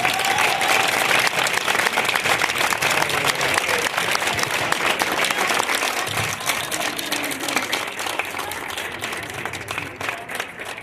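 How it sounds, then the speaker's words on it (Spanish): Loud, sustained audience applause closes a lecture on the history of the Parián in Tabasco, dense continuous clapping from a large crowd that gradually eases toward the end, with faint voices mixed in. "Ese mismo aplauso"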